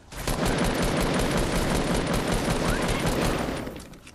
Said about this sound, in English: I know somebody was shooting over here.